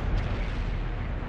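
Explosion of a tank in a tank combat video game, a short dense low-frequency boom that rumbles for about a second with no voices over it.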